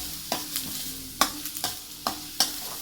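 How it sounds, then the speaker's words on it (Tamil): Chopped onions with a bay leaf sautéing in hot cooking oil for a chicken kuzhambu, a soft steady sizzle broken by several sharp scraping stirs of a spoon against the pan, fairly quiet and close. "அதை நல்லா எண்ணெயில் வதங்க விடுங்க."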